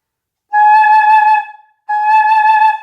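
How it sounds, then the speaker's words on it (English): Flute head joint blown with a frowning embouchure directed straight down, two sustained breathy tones with a fuzzy airy upper range, close and loud with no voices. "Embouchure that's frowning, blowing straight down."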